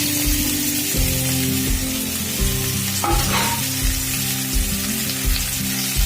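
Bottle gourd frying in oil in a pan with dried red chillies, a loud, close, steady sizzle overlaid by a regular pulsing tone repeating about once a second, with no voices.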